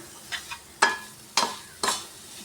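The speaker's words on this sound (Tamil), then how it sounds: "தீயை சிம்மில் வச்சு நல்லா வதக்கி விட்டு" Coconut and jaggery filling for banana-leaf kozhukattai is stirred in a pan over a low flame, four distinct scraping strokes of a spoon against the pan over a soft background hiss.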